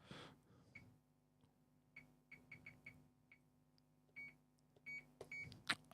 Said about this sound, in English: I want to turn off that freaking beep.